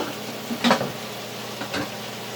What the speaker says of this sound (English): Add the mushrooms to it.